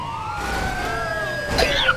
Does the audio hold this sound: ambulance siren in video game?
yes